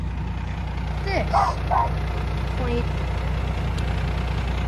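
A Republic Services bulk garbage truck idles with a steady low rumble throughout, while a person talks briefly over the engine drone.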